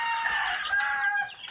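Backyard chickens cluck and a rooster crows nearby, overlapping calls close to the listener with a strong, steady presence for a second and a half.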